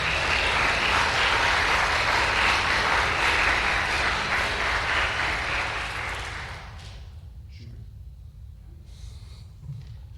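Dense applause from a concert audience at a youth string orchestra showcase, loud and steady for about six seconds before fading into scattered claps and a quiet room.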